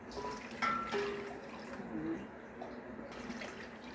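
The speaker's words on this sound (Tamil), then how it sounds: "தண்ணி ஊற்றிக்கணும்" Two cups of water pour into a pot for making mango sweets, a soft splashing trickle, fairly close, fading off toward the end, with a few faint background sounds.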